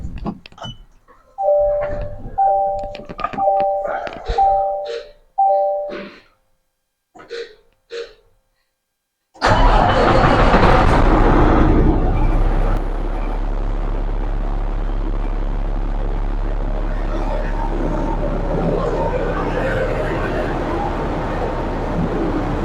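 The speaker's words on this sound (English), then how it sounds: "we'll just let it air up here, get some air back in the system, level off the cab" A heavy-duty Peterbilt tow truck airs up its air system after a run of repeated beeping chimes, its engine idling with a steady low rumble and a loud rushing hiss as the air builds.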